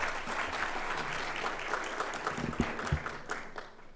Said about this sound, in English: It's good to hear you clapping